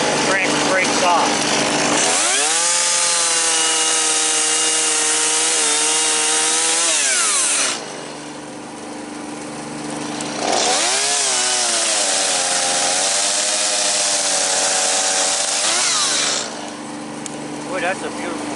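A chainsaw cuts through a tree branch during slash cleanup, with two long, loud bursts of high-revving cutting separated by a lower idle, the engine pitch dipping under load.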